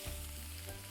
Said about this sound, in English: We're adding more butter and more butter.